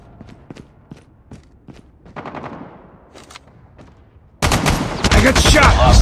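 Gunfire in a video game gunfight: a run of sharp single shots spaced across the first seconds, then a dense, loud burst of rapid automatic fire near the end.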